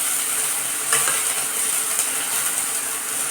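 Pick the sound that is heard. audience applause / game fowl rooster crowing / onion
onion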